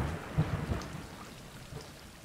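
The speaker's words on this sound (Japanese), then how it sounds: "外は雨よ。" Rain patters steadily outdoors in the video game Stray, with low rumbling thunder rolling underneath, a soft, muffled and fairly quiet storm with no voices.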